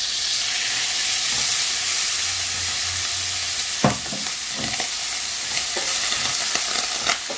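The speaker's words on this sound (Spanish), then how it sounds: "Y vamos a añadir la cebolla y el ajo." Onion and garlic frying in vegetable oil and butter in a pot, a loud steady sizzle with occasional scraping stirs and small clatters.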